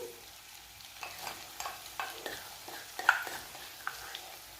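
Prepared spice masala being stirred into softened pointed gourd curry frying in a pan, with soft sizzling and irregular scraping strokes and a few light utensil taps, fairly close.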